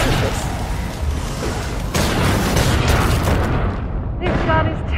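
Gunfire from a weapon in the zombie shooter game Killing Floor 2, heavy booming reports blending into dense battle noise throughout, loud and continuous, with a voice speaking over parts of it.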